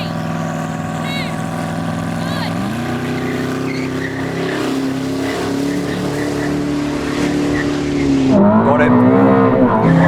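A Ferrari SF90 XX races a Koenigsegg, loud engines droning steadily and rising in pitch as they shift and accelerate, with a brief tire squeal and a short spoken remark over the noise.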